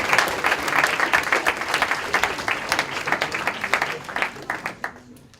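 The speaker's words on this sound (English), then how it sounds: "Give her a round of applause." Loud audience applause, dense clapping that carries on steadily for several seconds, then thins out and fades at the end.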